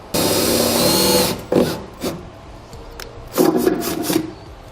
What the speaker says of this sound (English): So we're going to drill a pilot hole.